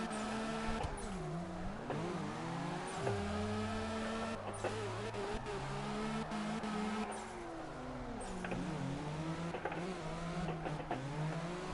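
Car engine in the video game CarX, driven with a Logitech G29 wheel, revving and shifting with rising and falling pitch sweeps, plus occasional tire squeal, loud and continuous with no voices.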